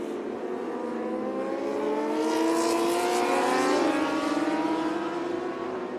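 Superstock race motorcycles at a Pirelli MSC round sweep past in a loud, sustained high-revving whine, engine pitch rising and shifting as several bikes pass close by.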